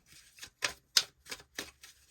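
Tarot cards being shuffled by hand, a series of six or seven short crisp riffling bursts in an uneven rhythm, close and fairly quiet with no talking.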